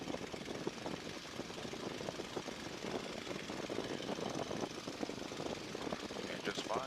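The engine of a small training aircraft runs up as power comes forward for a first flight lesson, a steady rough droning rumble that stays continuous and moderately loud with faint speech underneath.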